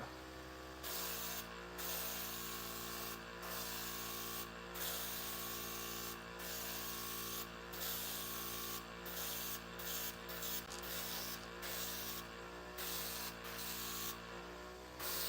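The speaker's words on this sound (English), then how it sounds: "using an airbrush is actually a lot easier than it looks" An airbrush sprays green paint onto a model's domed cowl in a workshop, a soft steady hiss in repeated bursts of a second or two separated by brief pauses, close and fairly quiet with an underlying constant hum.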